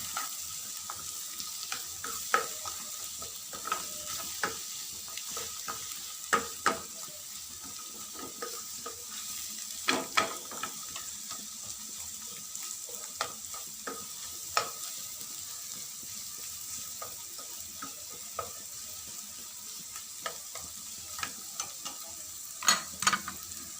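Egg fried rice, restaurant-style chicken fried rice, frying in a pan with a soft steady sizzle beneath repeated sharp scrapes and taps of a spoon stirring, moderately close and continuous.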